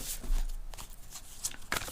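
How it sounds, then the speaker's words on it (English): A tarot deck shuffled by hand at close range, giving a few short papery riffles and slides with quiet gaps between them. "Let me give these a shuffle."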